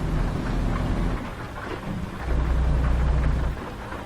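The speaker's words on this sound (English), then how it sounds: "I wish it wasn't raining" Rain pours steadily in American Truck Simulator while deep thunder rumbles low, swelling at the start and again near the end, with no talking over it.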